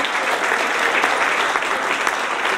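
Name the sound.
applause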